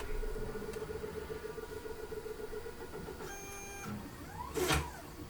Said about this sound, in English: I'm trying to get a print going, and my printer's being really dumb tonight.